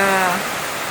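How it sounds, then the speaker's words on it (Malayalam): Rain begins falling outdoors as a steady broadband hiss, loud and close, with a faint tonal voice-like trace fading in the first half. "മഴ വന്നേ"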